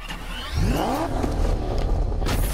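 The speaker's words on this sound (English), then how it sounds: "This is a freaking sweet Batmobile." In a Batman video game, the Batmobile's engine revs sharply, its pitch sweeping upward before settling into a loud, sustained roar close up. No one speaks.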